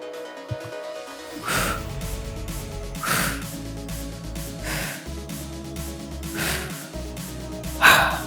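Heavy, loud breaths and gasps follow a HIIT core workout, several sharp exhales spaced a second or two apart over a low background, with no talking.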